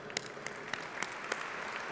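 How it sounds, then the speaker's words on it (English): Applause from an audience at a formal awards dinner, soft and fairly distant, a light continuous patter with a few louder individual claps standing out at irregular intervals. "we should give him a round of applause anyway"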